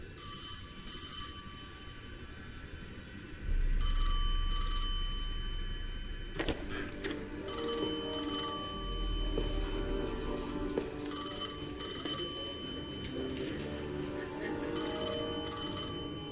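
A telephone ringing with a repeated electronic ring tone in regular bursts, sounding moderately loud over a steady low hum.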